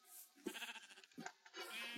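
Sheep in a video game bleat a few times in short, nasal calls close by, with quiet gaps between.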